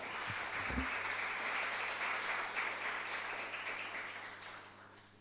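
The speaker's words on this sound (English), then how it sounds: "Please welcome him with a round of applause" A large audience at Nalanda University bursts into sustained applause, a dense steady roar of clapping that holds for several seconds and then slowly thins out.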